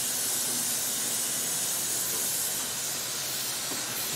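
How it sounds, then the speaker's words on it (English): R12 refrigerant escaping in a steady loud hiss from a leaking Schrader valve fitting on the A/C system of a 1990 Corvette ZR-1 with LT5 engine, continuous and close. "We will now disconnect the fitting, hopefully without a Schrader leak in here."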